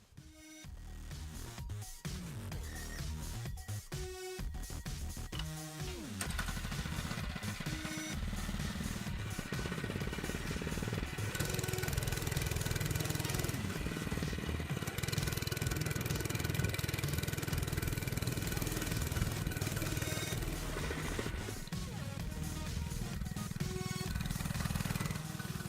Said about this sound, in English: right now I'm about to ride my mini bike